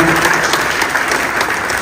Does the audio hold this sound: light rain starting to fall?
no